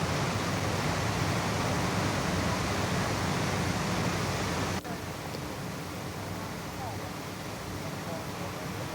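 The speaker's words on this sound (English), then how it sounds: "This waterfall can be found at Yellowstone National Park." Yellowstone National Park waterfall roars as a steady, dense broadband rush of falling water, continuous and fairly loud, with a brief break near the middle after which the rushing continues slightly softer.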